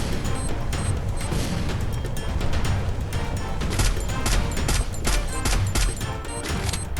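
Video game gunfire plays as a dense, steady barrage of rapid shots and impacts that continues without a break through the whole stretch, with no talking.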